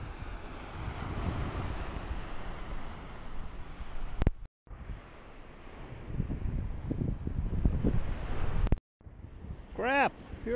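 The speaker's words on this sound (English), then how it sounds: "with these waves crashing, they make a lot of noise" Waves crash and wind buffets the microphone at a bay, a loud continuous roar of surf with gusty rumble, cut by two brief dropouts, with a short chirping tone near the end.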